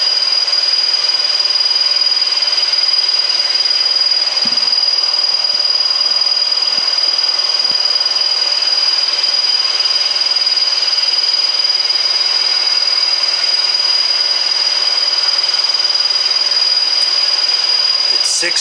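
A milling machine with a 5/8 inch cutter machines 6061 aluminum brackets, a loud steady whine over continuous broadband cutting noise that holds unchanged throughout.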